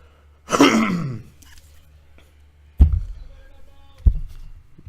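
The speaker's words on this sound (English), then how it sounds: "You just love it when you gotta clear your throat" A man clears his throat with one long, rasping, guttural burst, followed by two shorter, sharp hacks, close and loud against a quiet background.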